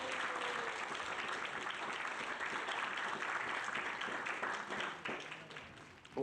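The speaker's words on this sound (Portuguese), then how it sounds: "Senhoras e senhores, um caloroso aplauso para o nosso próximo palestrante, Gabriel Hofblatt." An audience applauds a speaker being introduced at a church event, with a full, steady round of clapping that thins and fades toward the end.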